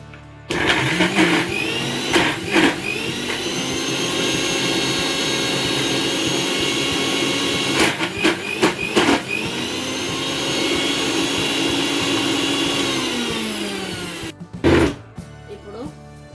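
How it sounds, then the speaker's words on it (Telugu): An electric mixer grinder whirs loudly as it blends tamarind chutney, with a steady roaring drone that starts up, runs continuously, briefly falters, then spins down and restarts near the end. "ఈ వాటర్ లాస్ట్ ఇది మిక్సీ పట్టి చూసేసుకుందాం"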